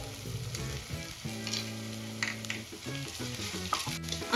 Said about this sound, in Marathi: अद्रक लसूणची पेस्ट आणि हिरव्या मिरचीची पेस्ट थोडीशी परतून घ्यायची आहे